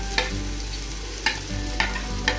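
Chopped onion fries in olive oil with a steady, close sizzle, broken by a few sharp scrapes of stirring, and no one speaks.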